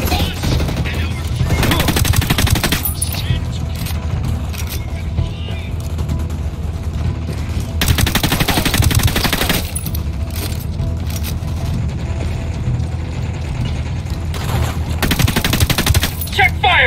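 Sustained automatic gunfire in Ghost Recon Wildlands, loud and dense, with heavier bursts standing out over a continuous roar of shooting and battle noise.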